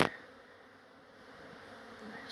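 A new honeybee swarm that has moved into a beehive gives off a faint, steady buzzing hum, a soft continuous drone with no voices over it.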